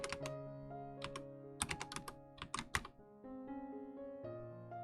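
Quiet keystrokes on a computer keyboard in short bursts of clicks, heard over a steady musical background.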